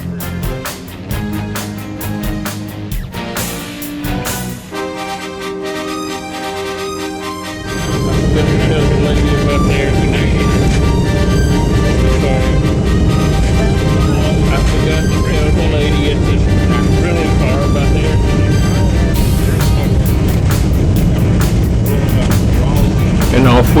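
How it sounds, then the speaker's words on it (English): Airliner lining up on the runway and taking off on a trip toward Salt Lake City; quieter taxi rumble for several seconds, then a sudden loud, steady broadband engine roar at takeoff power that holds to the end. "And now it's time to line up the airplane and take off."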